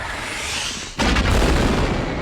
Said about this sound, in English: They just keep blowing them up.